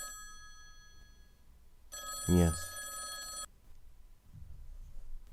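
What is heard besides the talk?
telephone ringing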